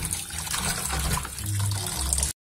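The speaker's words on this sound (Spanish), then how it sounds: "Y es mejor lavar todo muy bien." Running tap water splashes steadily over fresh parsley being rinsed in a sink, a continuous close gushing wash lasting a couple of seconds before cutting off.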